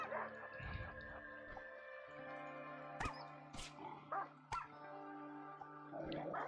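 A dog barks and yelps under attack in the RimWorld colony game, a handful of sharp barks and whimpers over a steady droning musical background, fairly quiet.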